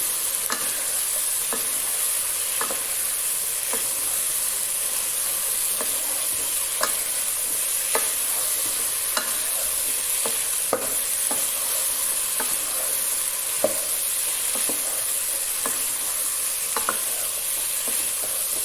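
About half a kilo of cut, washed eggplant stirred into a sizzling pan mixture for baingan sabzi: a steady frying hiss with regular spoon scrapes and taps against the pan.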